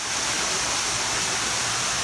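Small waterfall inside a cave, a continuous close hiss of falling water with no pauses or voices.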